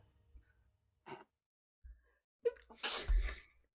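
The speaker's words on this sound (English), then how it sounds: "Bless you." A single sneeze, close and loud, preceded by a quick sharp intake of breath and a short sigh-like exhale, with silence in between.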